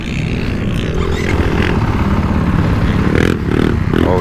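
A 2024.5 KTM 450 Factory Edition dirt bike ridden on dry hard pack, its engine droning and revving steadily up close with clattering chassis and wind noise throughout.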